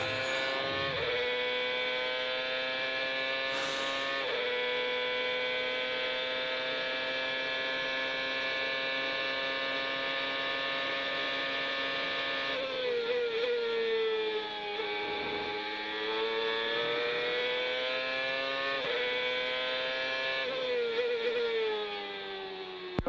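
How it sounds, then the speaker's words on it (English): A CART race car's engine on an onboard lap of Road America, a loud continuous high-pitched whine that rises and falls with gear changes and throttle across the lap. "ride a while to the sounds of speed. So turn up the volume and enjoy a lap of Road America"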